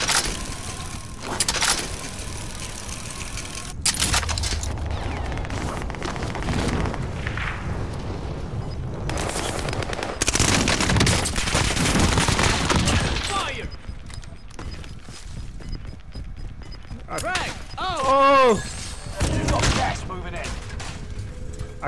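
Fortnite gunfire and explosive blasts play out in a duo match, with bursts of rapid shots and heavier booms scattered across the stretch. Players talk over the shooting.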